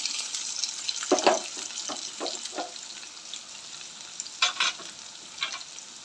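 Chopped onion with green chillies frying in a pan for tomato rice, a continuous close sizzle with a few bursts of stirring and scraping from a spoon.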